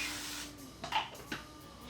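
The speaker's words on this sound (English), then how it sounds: "we're going to spray it with cooking spray" Cooking spray from a can misted onto a waffle iron for waffle cones, a couple of short sharp hissing bursts close up, each lasting a fraction of a second.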